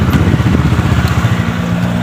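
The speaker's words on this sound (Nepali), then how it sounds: "एउटा मोटरसाइकल आइपुग्यो पार्किङ गरौँ" A motorcycle arriving to park near a Mahadev temple, its engine rumbling close and loud with a steady low putter throughout the short stretch.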